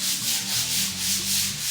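Rhythmic sanding of pinpoint spots on a house surface, a rough abrasive rubbing that swells and fades in even back-and-forth strokes, close by with no talking.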